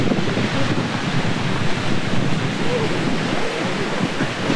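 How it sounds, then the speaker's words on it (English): Strong wind roars and buffets the microphone continuously, a loud rushing noise with gusty fluctuations, near a boat landing at Kong Lor Cave, Laos. "It is really windy."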